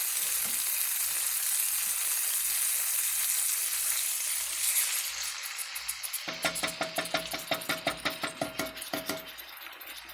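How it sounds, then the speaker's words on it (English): Liquid goes into a hot pan after a quiet stretch, and a dense sizzle rises, then pulses in a quick run of rhythmic bursts before fading. "we're going to add just a little bit of liquid to the pan, like a half a can of liquid."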